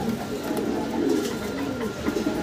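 Dancing high flyer pigeons cooing in a steady low murmur, with soft overlapping coos close by and no talking.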